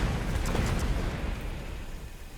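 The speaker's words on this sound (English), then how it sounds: "just immediately die and then explode fire onto your own units" Fiery explosions burst in a strategy video game as units die and spray flames over nearby troops, a loud rumbling blast that swells at once and then fades into a steady crackling roar.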